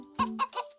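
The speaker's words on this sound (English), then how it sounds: "No, it's a chicken." A chicken clucking in a short series of four bright, close calls, clearly heard with no speech, as part of a farm-animal guessing game.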